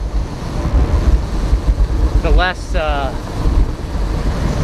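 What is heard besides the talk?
wind blowing into the microphone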